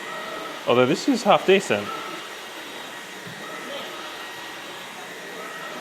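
A Samsung Jet 65 stick vacuum cleaner runs with a steady, airy broadband hum throughout, while a person speaks briefly over it near the start.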